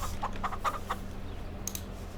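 Chickens in the Farming Simulator 22 video game cluck in a short run of four quick clucks, followed by a brief higher squawk, all over a steady low game hum.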